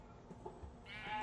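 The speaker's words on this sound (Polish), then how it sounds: "o, są owce!" Minecraft sheep bleat faintly in the game, a short quiet bleat rising near the end over low background noise.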